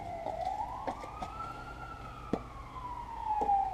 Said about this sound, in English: Y'all hear the sirens in the background.